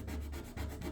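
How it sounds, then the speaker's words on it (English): A plastic scraper drags over a surface coated in LickPro water-based paint, giving a steady, close rasping rub with a few short rhythmic strokes and no talk. "Let's try the next up, the LickPro with the plastic scraper."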